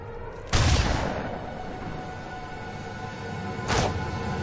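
Two heavy slug gunshots in Freelancer with the Crossfire mod, loud blasts about three seconds apart over a steady engine-like background hum, no talk.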